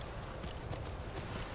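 Horse hooves clopping in the video game Skyrim, a quiet, muffled run of soft hoofbeats at a steady pace under a low wash of background sound.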